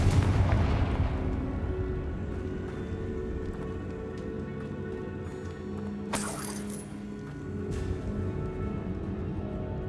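A Confringo fire spell blasts in the video game Hogwarts Legacy with a loud booming burst at the start that fades into a rumbling tail, a sharper crackling flare midway, and steady game ambience underneath.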